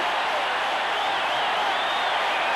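A large stadium crowd at a 1985 World Series baseball game roars and cheers in a continuous, dense wash of voices, steady and loud throughout.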